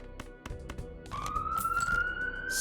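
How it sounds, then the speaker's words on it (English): A police siren wails inside the Balatro card game, a rising electronic tone sweeping upward over a run of short percussive game effects and chimes, fairly loud and unaccompanied by talk. "Sirens are going."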